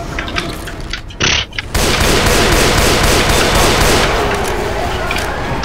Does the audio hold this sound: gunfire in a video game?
yes